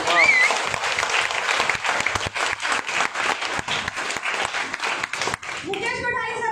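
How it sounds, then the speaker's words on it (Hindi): Seminar audience in Ujjain clapping for an RCM business figure, dense applause with sharp individual claps and cheering whistles early on, fading as voices and a child's speech come in near the end. "एक बार उनके लिए तालियां।"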